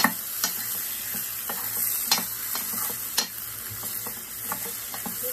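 Bombay duck being sautéed with potatoes and brinjal in a pan, giving a steady close sizzle broken by sharp scraping stirs and clicks of a spatula against the metal at irregular intervals.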